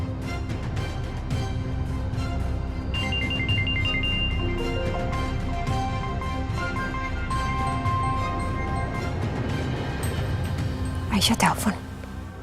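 Mobile phone ringtone plays as a melodic electronic tune for several seconds over a busy, noisy background.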